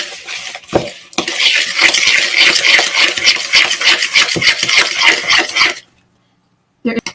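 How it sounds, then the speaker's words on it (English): A fork mashes and stirs margarine chunks in a bowl, giving about five seconds of busy, close rasping scrapes, then silence and a brief knock. "take your fork and mix it"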